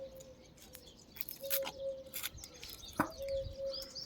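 Sparrows chirp around a clay pot feeder filled with puffed grain, giving scattered short calls at moderate distance over a soft outdoor background.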